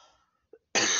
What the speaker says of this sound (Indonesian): Ini belum sembuh-sembuh batukku.